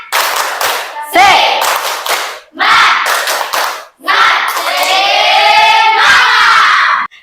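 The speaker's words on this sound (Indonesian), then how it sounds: "Tepuk semangat." Schoolchildren in a classroom perform a rhythmic spirit clap, tepuk semangat, with bursts of clapping mixed with loud chanted voices in several phrases separated by brief pauses.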